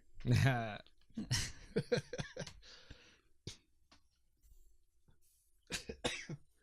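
Someone sick with a cold coughs during a board game podcast, a hard burst at the start followed by a few throat sounds and talk, with stretches of quiet in between.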